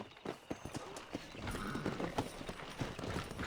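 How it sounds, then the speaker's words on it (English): Horse hooves clip-clopping at a gallop in the Red Dead Redemption video game, a fast, uneven run of close, loud hoofbeats with creaks and game ambience, with no voices. "bater uma corrida aqui de cavalo."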